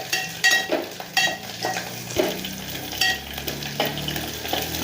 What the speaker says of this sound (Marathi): लसूण पण लाल होईपर्यंत असा परतून घ्यायचा लगेच खोबरं टाकायचं खोबरं बी चांगलं असं परतून घ्यायचं